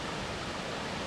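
Creek water rushes steadily below a 10-foot waterfall near a deep pool, on a creek flowing to the Green River in the Big Bradley Falls area of Saluda, North Carolina, a dense, close broadband roar with no talking.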